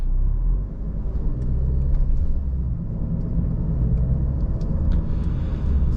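A 2022 Alfa Romeo Giulia Sprint on 17-inch wheels rolls over uneven city pavement, giving a steady low road rumble and muffled suspension thumps from inside the cabin, with no voices.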